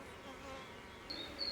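Honeybees at an apiary hive in Italy make a steady, low buzzing hum throughout, with a few brighter, closer insect whines rising near the end.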